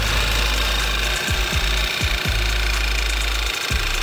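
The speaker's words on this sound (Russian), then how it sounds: "Двигатель начинает троить." Audi 1.8 TFSI engine idling roughly and misfiring with its oil filler cap open, a steady close mechanical drone broken by several uneven low thumps and stumbles.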